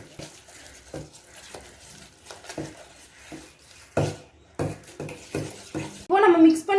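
Mango cake batter being mixed in a bowl as milk is added little by little, giving soft repeated stirring and scraping strokes at a steady pace, with a voice briefly speaking near the end.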